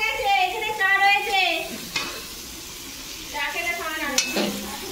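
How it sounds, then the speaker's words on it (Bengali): Pumpkin slices fry in hot oil during a Bengali festival cooking day, giving a loud crackling sizzle and stirring that ease off briefly and then return, with faint voices in the background. "কুমড়ো ভাজা চলছে।"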